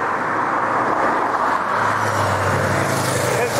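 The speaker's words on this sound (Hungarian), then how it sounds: "Annyira jönnek ezek az autók" Cars rush past on a mountain road in the Low Tatras near Donovaly, making a steady, loud roar of traffic and strong wind. One vehicle swells nearer toward the end.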